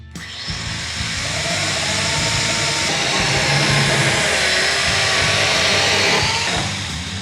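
A Sun Joe 24V-X2-CS16 48-volt IONMAX cordless chainsaw cuts wood, its loud motor and chain whine starting after a brief pause and holding strong for several seconds before easing slightly.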